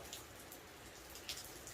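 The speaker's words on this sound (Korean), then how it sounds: "겨울비가 오네요" Steady winter rain falling, a dense patter of drops hitting surfaces nearby with occasional louder splashes, no voices.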